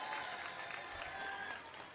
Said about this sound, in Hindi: जोरदार ताली बजा दो सारे जने।